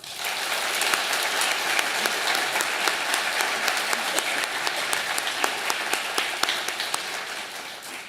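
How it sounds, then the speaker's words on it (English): A large audience applauds steadily, many hands clapping at once in a sustained, even roar with sharp individual claps popping through. "Please join me in a round of applause."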